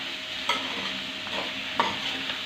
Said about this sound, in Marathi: बटाट्याच्या फोडी करून घेतलेल्या आहेत ना त्या छान परतून घ्यायच्या आहेत अशा एकसारख्या हलवत परतून घ्या